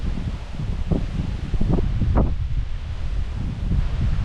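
Wind gusting through leaves and brush outdoors, a steady broadband rustle with a few brief louder bursts and occasional low rumble of wind on the microphone, no voices.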